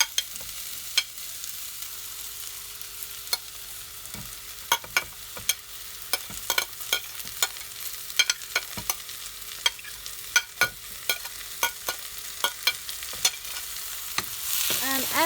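Mixed peppers fry in an oiled pan for a vegetarian maklouba, a steady sizzle punctuated by regular sharp scrapes and clacks of a spoon stirring, close and clear with no talking.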